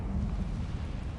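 Incendio fire spell cast in a Hogwarts Harry Potter game, a short, deep whooshing roar of flame that bursts and rumbles for about a second.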